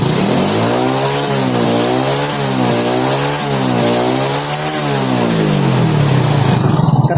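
A Honda Supra X motorcycle engine runs close by, its revs rising and falling in repeated smooth waves under the throttle, steady and loud throughout.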